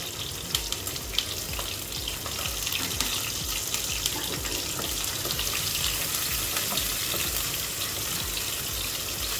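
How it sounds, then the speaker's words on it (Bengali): Ginger, garlic and green chili sizzle in hot oil, a steady crackling hiss that holds close and even throughout with no voices. "প্রথমে আমি তেলের মধ্যে দিয়ে দিলাম আদা কুচি, রসুন কুচি,"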